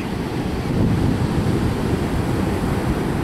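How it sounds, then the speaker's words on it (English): Big ocean waves break on a beach in a loud, continuous roar of surf, mixed with wind buffeting the microphone. "Getting washed away by them big old waves?"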